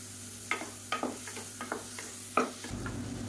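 Tomato sautéing in a pan with salt, with a spoon stirring and scraping it every so often, faint sizzling underneath, and a low steady hum in the background.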